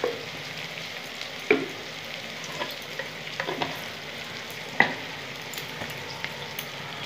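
Cumin and Kashmiri chili fry in a pan with a low, steady sizzle while a spoon scrapes and stirs, giving a few sharper clinks against the pan; close and fairly quiet, no voices.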